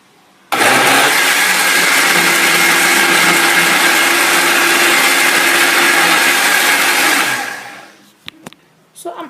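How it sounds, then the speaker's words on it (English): A blender whirs loudly and steadily for about seven seconds blending cabbage with water, then spins down, followed by a few faint knocks. "And I'll blend again until the blender is full."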